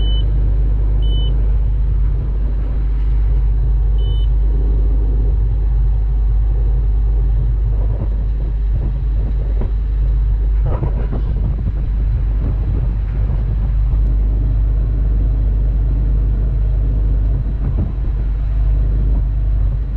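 Farm machine diesel engine idling as it warms up outdoors on a breezy day, a steady loud low rumble with wind buffeting the microphone throughout and no talk.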